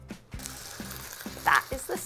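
Pork chops searing in a hot pan give a close, steady sizzle with small crackles and pops over about two seconds.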